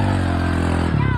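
Hero Splendor motorcycle engine revving hard with a steady, loud harmonic drone that shifts pitch near the end, heard close up with a crowd setting around it.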